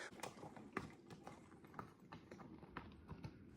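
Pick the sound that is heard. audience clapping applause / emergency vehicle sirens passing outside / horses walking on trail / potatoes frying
horses walking on trail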